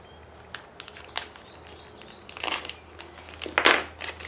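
A plastic parts bag from a Losi FiveT RC truck electric conversion kit is cut open up close, giving scattered crinkling and rustling bursts that grow louder near the end, with no talking.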